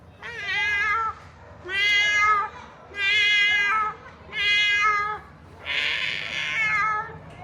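A young girl imitates a cat, giving five loud, close meows in a steady rhythm, the last one slightly breathier and harsher.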